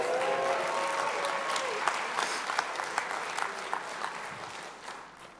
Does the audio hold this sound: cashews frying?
no